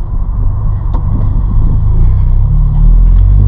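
A Toyota GT86 driving, heard from inside the cabin: a loud, continuous low engine rumble that swells slightly toward the end.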